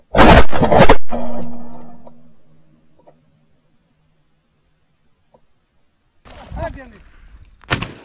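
A single loud shotgun blast while hunting partridge outdoors, with a decaying rumble, then a quiet stretch followed by muffled voices and another sharp impact near the end.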